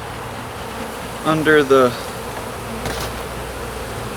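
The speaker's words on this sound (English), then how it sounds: "Not many bees up here" Honey bees hum steadily inside a hive during an inspection, a low continuous buzz with a short burst of speech partway through.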